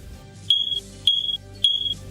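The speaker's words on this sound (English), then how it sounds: "sulay kanunay ang inyong smoke alarm, ang maong tunog makaluwas sa kinabuhi" A smoke alarm beeps three times in a steady, evenly spaced rhythm, each tone loud, piercing and close, with only faint background between the beeps.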